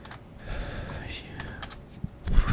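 Keys clatter on a computer keyboard in quick, close, moderately loud runs of clicks. Faint talk or breathy sounds run underneath.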